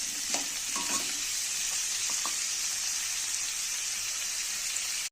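Potatoes and onions frying in a pan for an egg curry, giving a steady close sizzle throughout with a few light stirring clinks early on.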